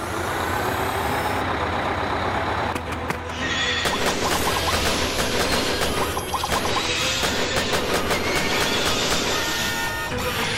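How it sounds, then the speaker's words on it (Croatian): An animated train starts to move, with a dense, loud mix of clanking metal, hissing brakes and mechanical rattling that fills the scene and builds steadily. "Pripremi vlak za pokret."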